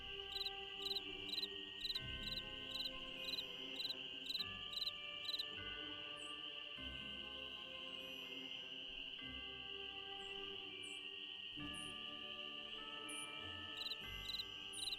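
A cricket chirps in a Nancy Drew video game, steady rhythmic pulsed trills repeating in bursts over a continuous high insect drone and soft ambient game tones, no talk.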